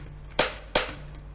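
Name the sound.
squashing the top of a plastic container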